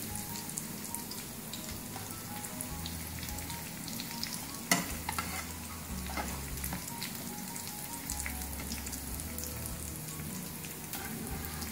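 Vegetable kebabs fry in a pan, turned light golden brown on both sides, giving a steady close sizzle and crackle with a sharp clink of a utensil partway through and no talking.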